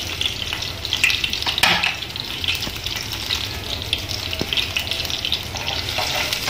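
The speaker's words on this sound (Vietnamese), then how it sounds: "giờ mình sẽ bắt đầu chiên mực bò viên cái viên nha các bạn" Squid and beef balls fry in a hot pan, giving a steady, close crackling sizzle with occasional sharper pops and stirring clatter throughout, with no talking.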